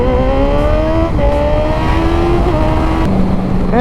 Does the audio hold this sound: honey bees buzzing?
no